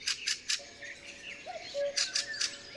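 Fieldfare, a blackbird-sized thrush, giving a series of short harsh chattering calls in bursts, with fainter thin whistled notes between them, moderately close outdoors.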